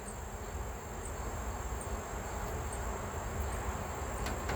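Honeybees hum around an open hive as a beekeeper pulls honey, a steady, even drone of insects filling the air without a break, with a thin high whine running above it and no voices.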